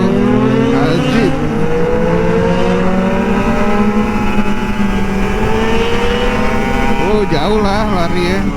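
An old Kawasaki Ninja RR 150 motorcycle accelerating on the road alongside big bikes, its loud, close engine whine climbing and shifting pitch steadily over rushing wind.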